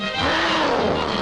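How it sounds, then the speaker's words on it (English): A ferocious tiger roar in a cartoon rises as a loud, sustained, raspy growl close up, running unbroken and alone. "he heard the most ferocious-sounding roars"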